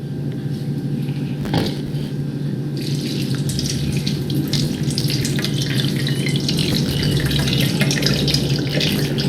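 Water poured over sprouting bean seeds makes a steady, close splashing and trickling that runs continuously and grows slightly busier after a few seconds, with a low steady hum underneath.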